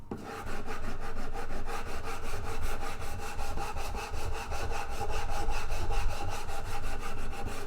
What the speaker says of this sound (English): by sanding it into shape rather than